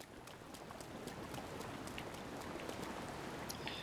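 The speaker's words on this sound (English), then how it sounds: "Man, I wish it wasn't raining." Steady rain in The Legend of Zelda: Breath of the Wild patters and hisses across a broad wash of noise, with scattered droplet ticks; continuous and fairly close, no voices.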